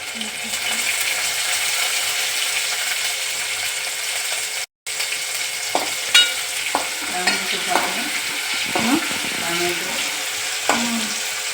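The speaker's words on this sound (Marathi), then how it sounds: "हे परतवून घ्यायचं आहे गॅस मंद आचेवर आणि त्याच्यानंतर कढीपत्ता आपण त्याच्यावरती टाकतोय" Curry leaves stirred and sautéed in a pan on low heat, a steady soft sizzle with intermittent scraping and clinking of a spoon against the pan, up close.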